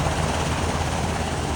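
A Black Hawk military helicopter at a baseball stadium event gives a steady, loud, close rotor and engine roar with no break and no voices.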